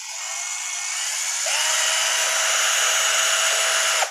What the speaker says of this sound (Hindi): बटन को फुल प्रेस करने पर ड्रिल मशीन अपनी फुल स्पीड पर चलती है।